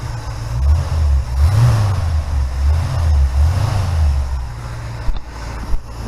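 A 1969 Pontiac Firebird engine running, a loud, close, deep rumbling idle with slow rising and falling swells in its note and a couple of brief knocks near the end.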